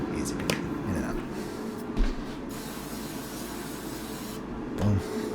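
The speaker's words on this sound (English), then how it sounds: "I'm just going to do a light spray with this." Avocado oil is sprayed lightly into a pan, giving a steady, close hiss that runs for several seconds with a couple of brief louder bumps.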